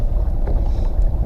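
A bass fishing boat idles along a rocky point, giving a loud, steady low engine rumble mixed with wind buffeting on the microphone, with no voices heard.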